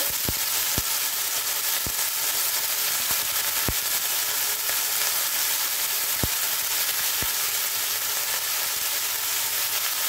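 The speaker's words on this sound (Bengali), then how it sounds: "খুব সামান্য একটু লবণ দিয়ে এটাকে সুন্দর করে একটু ভেজে নিচ্ছি" Vegetables soaked in turmeric water and lightly salted fry for moong dal in a pan, giving a steady, close sizzle throughout with occasional sharp pops and crackles.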